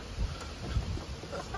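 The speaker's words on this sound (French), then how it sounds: "encore une poule blanche, parce qu'il y a 3 poules blanches en fait qui s'échappent." White hens and bantams clucking in a yard, with a few soft, low clucks and quiet rustling against faint background noise.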